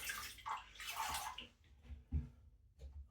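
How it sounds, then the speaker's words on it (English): Water splashes and runs in a few short bursts close by as a shavette razor blade is wetted under a tap, followed by a faint drip and a soft knock. "Now I'm just going to wet the blade"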